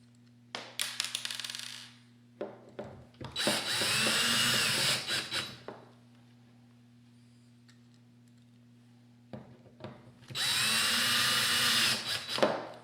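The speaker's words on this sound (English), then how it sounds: "the last 2 screws go in the other side" A power drill drives screws into the handle of a Dupray Neat steam cleaner, sounding in three close, loud whirring bursts separated by quiet pauses, with no talking.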